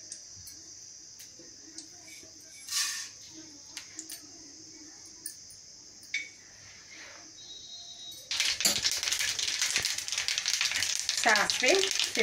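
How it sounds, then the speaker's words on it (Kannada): Mustard seeds and cumin sizzling in hot oil in a pan, a soft crackle that bursts into a loud, dense sputtering hiss partway through. "ಎಣ್ಣೆ ಕಾದ ಮೇಲೆ ಸಾಸಿವೆ ಜೀರಿಗೆ ಹಾಕ್ಕೊಳ್ಳೋಣ"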